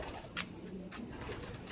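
Pigeons or doves coo close by, a few soft, repeated throaty calls spread through the moment with low background noise.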